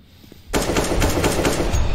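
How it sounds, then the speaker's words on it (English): Rapid automatic gunfire in Counter-Strike: Global Offensive bursts in suddenly after a quiet moment and keeps rattling loud and close to the end with no pause. "Why are you shooting, bro?"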